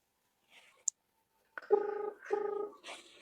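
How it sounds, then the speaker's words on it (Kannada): A phone call rings out after dialing: two short, evenly spaced ringback tones, clear and close. A faint click comes earlier, and a third tone begins at the end. "ರಿಂಗ್ ಆಗ್ತಾ ಇದೆ"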